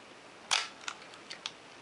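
A Minolta X film camera shutter fires at a one-second speed: a sharp, close opening snap, then a few faint mechanical ticks before a closing click roughly a second later, with no other sound around.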